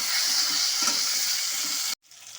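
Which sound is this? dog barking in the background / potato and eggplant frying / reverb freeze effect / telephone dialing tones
potato and eggplant frying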